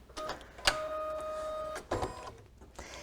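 An embroidery machine stitches a design on a hoop, giving soft whirring mechanical runs broken by sharp clicks and a sustained tone, quiet and close with no talk.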